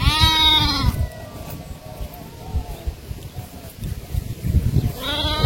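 Loud, close bleats from tethered goats and sheep in a village yard in the morning. One wavering call comes at the start and another near the end, with rustling and low background noise between them.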